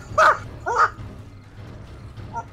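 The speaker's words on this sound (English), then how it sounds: "I got a dog on me, man" A dog barking at the player in the survival game 7 Days to Die, two sharp close barks in quick succession followed by fainter yips over a low rumbling background.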